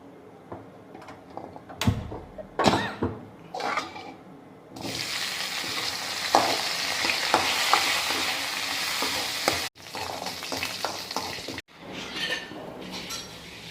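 Tempering spices crackle and sizzle in hot oil up close while making raw banana stir-fry, with stirring scrapes and a few sharp pops before a steady frying hiss takes over.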